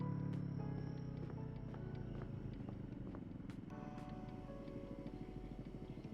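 A child's motorbike engine in a video game drones with a low, buzzing, rattly hum, steady and close, joined by a few faint clicks and tones from the game.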